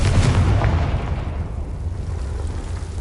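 A Confringo spell explosion in Hogwarts Legacy gives a loud, close fiery blast. A deep rumbling boom opens the moment and slowly dies away over about three seconds, with no talking.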